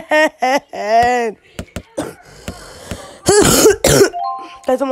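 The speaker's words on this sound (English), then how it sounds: "That's why I'm coughing." Harsh coughing and throat clearing come in short bursts, mixed with a person's voice and bright game sound effects.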